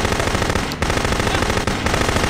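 Rapid machine gun fire in the video game No One Lives Forever 2 rattles in a dense, continuous burst at close range, broken by two brief gaps.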